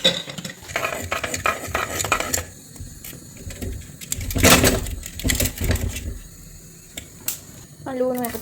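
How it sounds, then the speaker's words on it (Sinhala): Coconut mallum being stirred with salt in a pan, a spoon scraping and clinking against the metal in irregular strokes, close and fairly loud, with a short voice at the end. "ලුණු ටිකක් දාලා හොඳට මේක කලවම් කරනවා"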